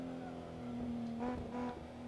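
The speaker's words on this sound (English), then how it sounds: "Right, handbrake entry. Sliding it in. RB26 powered Mustang." An RB26-powered Mustang drifts in Assetto Corsa, its engine a steady droning tone that swells and revs briefly as the car slides, with a faint tire hiss underneath.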